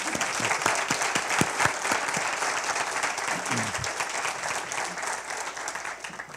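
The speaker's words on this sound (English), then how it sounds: "please give us a round of applause to Daryl" Sustained audience applause at a Playful City USA leaders summit, a dense wash of many hands clapping steadily for several seconds with brief voices murmuring underneath.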